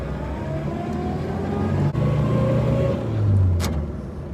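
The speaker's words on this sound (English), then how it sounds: "first gear, and now we give it some gas" A vintage Morris Minor 1000 car pulls away in first gear, the engine note rising and swelling near the end, with a brief sharp click partway through and no talking.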